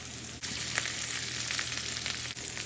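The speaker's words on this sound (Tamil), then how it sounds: "இந்த வெங்காயம் நல்லா பொரியட்டும்." Onions and garlic frying in oil for a Tamil potato masala, a steady close sizzle with broadband crackle running through, a brief dip near the start and another toward the end, no voices.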